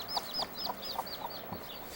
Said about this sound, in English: Oh, there's a hen with a couple little chicks.